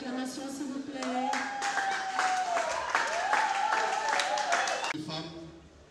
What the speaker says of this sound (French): Et nous continuons avec des acclamations, s'il vous plaît.